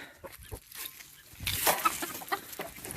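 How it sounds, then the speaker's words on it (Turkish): Chickens cluck and chatter close by while being fed wheat, several birds busy and excited, with scattered scratching and a rustling burst partway through. "Tavuklara buğday verelim."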